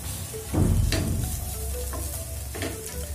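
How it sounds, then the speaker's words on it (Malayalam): A spoon stirs grated raw banana in a hot pan for Kerala thoran, giving a few scraping strokes over a steady low sizzle, close and fairly quiet. "നമ്മൾ ഗ്രേറ്റ് വെച്ചിരിക്കുന്ന വാഴയ്ക്ക് ഇട്ട് കൊടുക്കാം എന്നിട്ട് എല്ലാം കൂടി ഒന്ന് മിക്സ് ചെയ്ത് കൊടുക്കാം"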